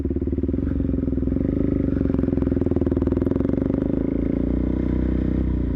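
A motorcycle ridden on dirt runs close by with a steady, pulsing engine note that rises a little partway through, along with a light rattle from the bike, and no one speaks.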